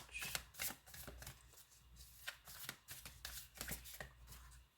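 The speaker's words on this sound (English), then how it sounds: "I am going to pull one tarot card." Tarot cards are shuffled close up in a quiet room, a run of crisp, papery riffling bursts in an uneven rhythm with no talking.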